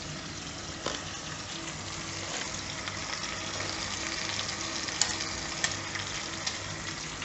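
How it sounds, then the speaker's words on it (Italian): Pork spare ribs sizzle in a pan with onion, a steady soft frying hiss with occasional small pops and light stirring, moderately quiet with no talking. "Intanto sentite il rumore che sta sprigolando la ciccetta?"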